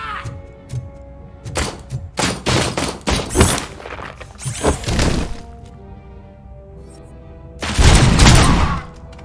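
Gunfire in the RoboCop video game: bursts of sharp shots crack out in clusters, loud and close, with a dense heavy volley near the end and short gaps between.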